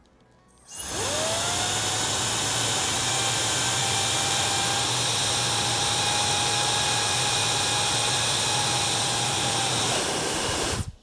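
A Laifen hair dryer runs on level 1, blowing into a wind tester: a loud, steady whooshing airflow with a high whine that starts abruptly, holds for about ten seconds, then cuts off, no talking.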